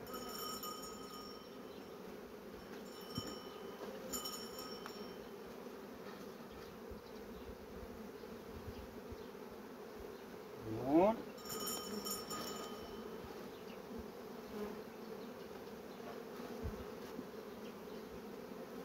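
Honeybees hum steadily nearby at a hive, a dense droning buzz with one bee passing close and loud partway through.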